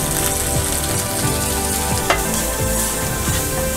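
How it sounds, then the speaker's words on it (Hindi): Cumin seeds and green chili hit hot ghee for a dal tempering and give off a loud, dense, crackling sizzle that holds steady, with one sharp click partway through. "देखिए, हमारा घी गर्म हो गया तो अब इसमें हम थोड़ा सा जीरा डालते हैं, हरी मिर्च।"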